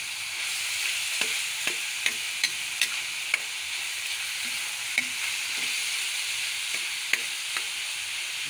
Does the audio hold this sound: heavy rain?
no